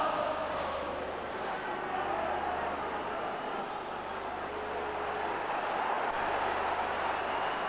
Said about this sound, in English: Big noisy crowd here, urging them on to get a great reception as they come onto the field.